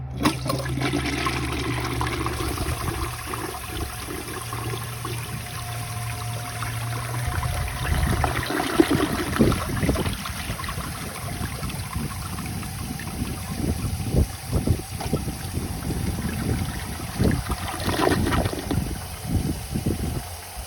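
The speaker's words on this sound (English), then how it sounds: "I was not expecting that to double flush." A 1953 Gerber Arlington toilet double flushes with one jet plugged: a steady rushing swirl of water, then a gurgling siphon and a second surge of splashing and trickling, close and loud.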